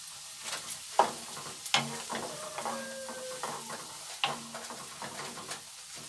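Hot and spicy chicken kosha sizzles in a pan while a utensil stirs it, with scattered scraping clinks over a constant frying hiss.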